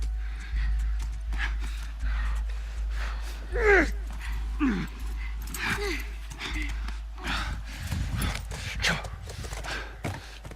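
Hooves clop and a horse snorts while riding in The Last of Us Remastered, rhythmic footfalls under a droning game ambience, with voices talking over parts of it.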